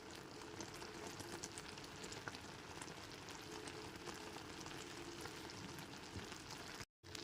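Spiced raw mango pickle with coarsely ground roasted spices cooks in a pan, giving a steady, even bubbling sizzle that is faint and continuous, with a brief dropout near the end.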